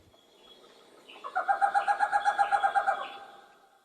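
A Flores scops owl calls in a rapid series of about a dozen evenly spaced, clear whistled notes, moderately close against a quiet background.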